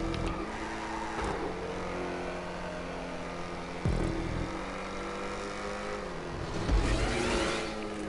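A Schwartzer sports car engine in a GTA V race, holding a steady mid-range drone with a few sharp revs and gear shifts, fairly loud and close.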